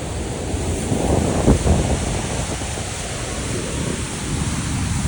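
Niagara Falls roars in a continuous, thundering wash of sound, with wind buffeting the microphone in heavy low gusts.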